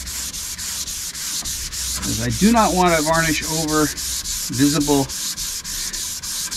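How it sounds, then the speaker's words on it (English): Hand sanding across a wooden boat table with the grain during varnish prep, rhythmic strokes with steady rasping friction that continues under someone talking. "So, sand with the grain."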